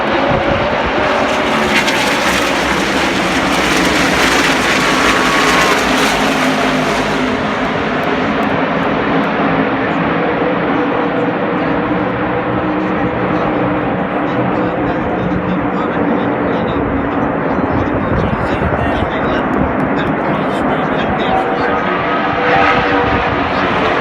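Race cars roar around the Dover Monster Mile racetrack in a loud, unbroken wall of engine noise that swells and eases slightly as the pack passes, with a voice faintly mixed in.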